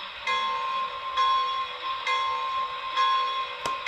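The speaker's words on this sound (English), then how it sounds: "Let's start with the bell." The bell on an MTH model New York Central Hudson locomotive rings steadily, clanging about once a second in an even, repeating rhythm, fairly close and clear.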